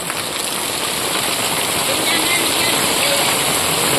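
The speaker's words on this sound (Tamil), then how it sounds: "நம்ம ஊரில் கனமழை தான்" Heavy rain pouring down in Vagaikulam village, Tirunelveli, a loud, unbroken hiss of water that stays even and close throughout.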